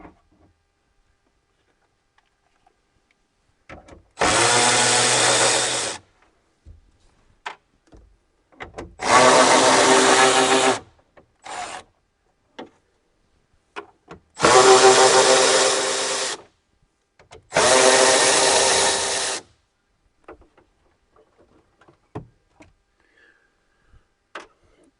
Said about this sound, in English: Then we can go ahead and start removing the 4 bolts.